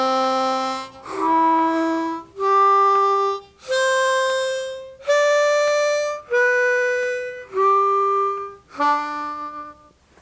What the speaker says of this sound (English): We'll blow through holes 1 through 4 and then draw through each hole coming backwards.